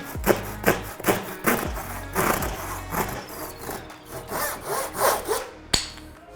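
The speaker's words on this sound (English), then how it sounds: "Start by cutting, just pulling gently to get the cut to start." A hand saw cuts into a clamped wooden piece with loud, rhythmic rasping strokes, about a dozen close back-and-forth passes with no talking.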